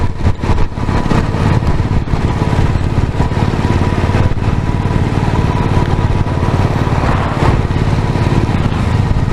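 A motorcycle engine labours steadily up the hairpin bends of Agumbe Ghat, loud and close with a constant rumbling drone and little change in revs, wind noise mixed in.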